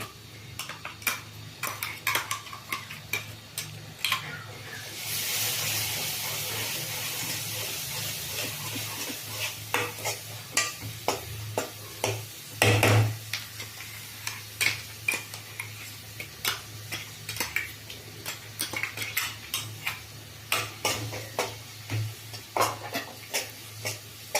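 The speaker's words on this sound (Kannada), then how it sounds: "ಈಗ ಇದಕ್ಕೆ ನಾನು ಇಲ್ಲಿ ರುಬ್ಬಿಟ್ಟಿರೋ ಮಸಾಲೆ ಹಾಕ್ತಾ ಇದ್ದೀನಿ." Ground masala frying in a pan for egg chilli masala, a low steady sizzle under repeated sharp clinks and scrapes of a spoon stirring against the pan, near and without talking.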